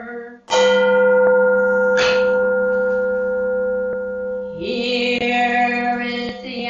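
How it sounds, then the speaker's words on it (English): A Zen temple bell at a Sunday service in Ann Arbor is struck loudly and close, and its long, sustained resonant tone is renewed by further strikes as it rings on. "Here is the after sound of the bell."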